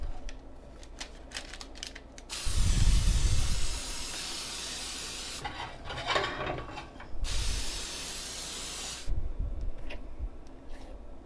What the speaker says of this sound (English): We're going to go ahead and spray it again.